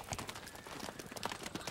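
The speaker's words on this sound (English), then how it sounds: "I can almost make believe that I hear horses right now" Horse hooves clip-clopping at a steady walking rhythm, fairly faint amid light background noise.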